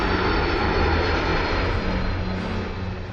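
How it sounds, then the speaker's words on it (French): Boeing 757 jet airliner engine, a loud continuous roar that holds steady and eases slightly toward the end, with no voices. "Le Boeing 757 de Trump est tout aussi puissant que l'Air Force One du président"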